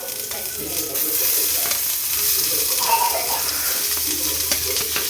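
Onions sizzle in hot oil, a steady crackling hiss that swells after a moment, with a utensil scraping and stirring in the pan.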